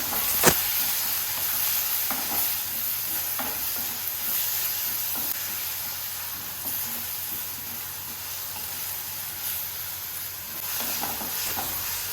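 Onion, a small tomato, and crushed ginger, garlic and green chilli fry in a pan, giving a continuous close sizzle with soft stirring scrapes. A sharp clink sounds near the start, and no voices are heard.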